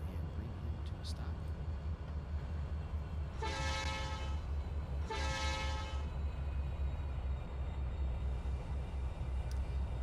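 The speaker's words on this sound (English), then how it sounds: "here comes our Eastbound Thru Train coming into the interchange yard" A train horn sounds two long blasts, each about a second, over a steady low engine rumble as an eastbound through train pulls into an interchange yard in Trainz 2019.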